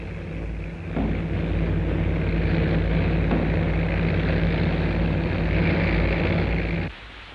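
Crippled B-29 Superfortress bombers land at Iwo Jima after raids over Japan, heard as a loud, steady roaring aircraft drone that holds for several seconds before dropping away at the end, on a grainy old film soundtrack.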